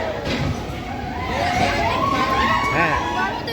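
Passengers shout and chatter loudly as a train enters a tunnel near Vizag, a steady wash of many voices over rumbling train noise throughout.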